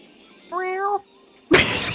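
A person imitates a cat with a short, clear, nasal meow, followed after a brief pause by a loud, harsh crash.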